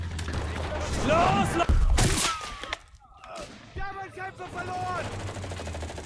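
A mortar explosion in a video game hits as a loud, sharp blast with a short rumbling tail, set within ongoing game gunfire and effects while a voice talks over it.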